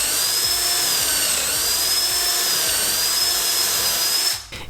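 A power drill whines steadily at high pitch, driving pocket screws into a wood joint held with a C-clamp in a garage, running loud and continuous before stopping abruptly at the end.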